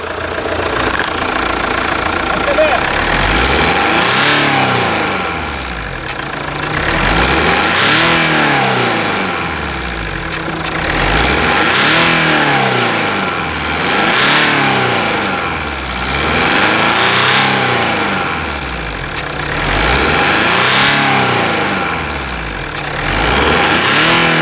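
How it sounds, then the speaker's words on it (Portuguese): The diesel engine of a Jeep Compass runs loudly up close and is revved repeatedly, rising and falling in about six smooth, rhythmic cycles with a knocking undertone and no voices. "Da partida aí, vamos escutar a melodia. Esse motor aqui é a diesel."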